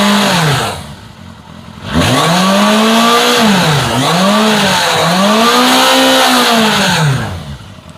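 Honda FCR600 motorcycle engine revs hard from idle, pitch climbing and falling through several loud sweeping blips, then dropping back to a steady idle near the end; no talking.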